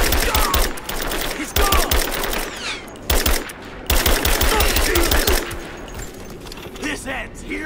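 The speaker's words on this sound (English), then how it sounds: "Open fire! Give me suppressing fire!" Suppressing gunfire in Rise of the Tomb Raider, a video game, comes as loud, rapid automatic bursts in several volleys with short pauses between them, while voices shout over the shooting.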